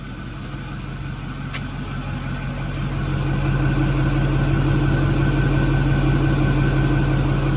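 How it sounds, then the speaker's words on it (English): A 2008 Ford F-250 pickup truck idles with a steady low exhaust rumble, recorded from behind, growing a little louder partway through and then holding constant, close by. "We'll go back around to the back just so you can hear the exhaust."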